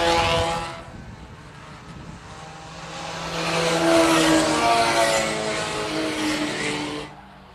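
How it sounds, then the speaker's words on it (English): Sport compact race cars roar around the Phillips County Raceway track in the final race of the night, engines swelling loud and near as they pass, with a faint tire squeal and crowd-like noise. "James Embry down the back straightaway for the final time"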